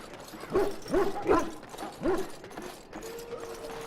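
Dogs barking in the fantasy video game Dragon Age: Origins, hounds kept in a war camp before battle, giving four or five short gruff barks in a loose rhythm, then a faint whine over low ambient game noise.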